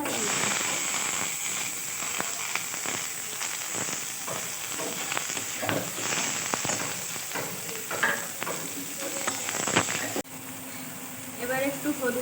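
Ginger sautés in a pan for a pabda fish curry, giving a dense frying sizzle with scattered crackles and pops. The sizzle drops suddenly to a quieter hiss near the end.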